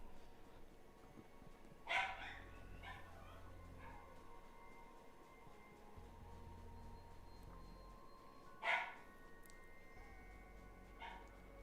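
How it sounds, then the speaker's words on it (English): A dog barks in the distance, two short faint yips spaced several seconds apart, behind a steady low hum and light background noise. "Your dog barking? He's been barking."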